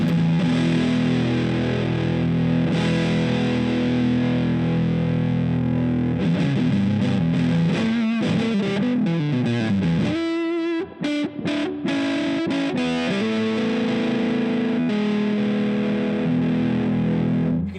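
Electric guitar through an EarthQuaker Devices Hoof Reaper fuzz pedal plays loud and continuous, its saturated tone shifting and sweeping as the knob settings change, with a brief choppy break midway.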